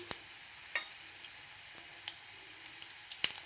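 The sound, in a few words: cumin and mustard seeds frying together in oil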